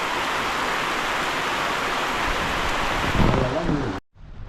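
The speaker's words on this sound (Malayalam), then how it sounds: "ഒരു രക്ഷയില്ല കേട്ടോ, ഭയങ്കര മഴയാണ്" Heavy rain pours down steadily as a loud, continuous wash that swells near the end and then cuts off abruptly; no distinct thunder stands out.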